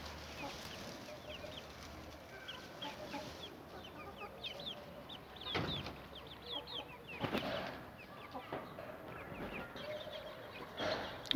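Many small guinea fowl chicks cheeping and peeping continuously in thin high chirps on soil, with a few soft clucks and light rustling nearby.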